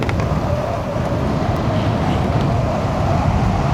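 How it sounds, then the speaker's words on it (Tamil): Strong, steady wind roar buffeting a rider with the helmet visor opened on a motorbike road trip between Thenkasi and Achankovil, Kerala, a continuous broadband rush with low rumble and no talk. "இந்த காற்றோட சவுண்டை மட்டும் கேளுங்க."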